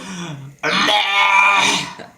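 A person's voice imitates a cow mooing with a short, rough, throaty groan. A brief low sound comes first, then a louder, raspy sustained note of about a second and a half that sounds more like throat clearing than a real moo.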